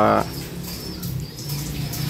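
A short low burst opens, then soft pigeon coos and faint fluttering continue over quiet background noise.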